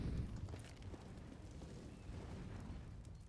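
Grenade blasts during a professional esports match of a competitive video game: faint, distant-sounding rumbling booms that blur into a steady low roar for a few seconds, with no voices.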